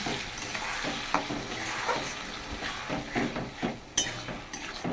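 Potatoes and onions fry in oil with spices in a clay pot, a continuous sizzle punctuated by stirring scrapes and occasional utensil clinks against the pot.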